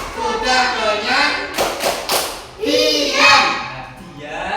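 Children in a classroom clap along to the Indonesian 'tepuk ikan' chant, with a short burst of sharp claps in the middle mixed with their chanting voices.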